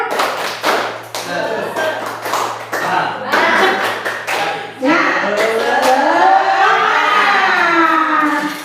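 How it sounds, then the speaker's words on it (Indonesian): A group of adults in a school-culture training session performs the "tepuk semangat" rhythmic classroom clap, with sharp patterned claps in sets followed by voices chanting together. "Tepuk semangat"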